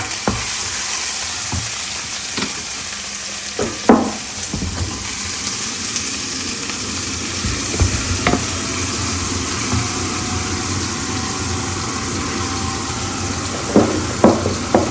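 Sliced bitter gourd frying in a pan, a loud continuous sizzle with scattered clanks and scrapes of a spatula stirring, no one speaking.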